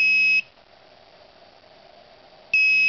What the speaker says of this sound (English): it only beeps once if I move it a little bit closer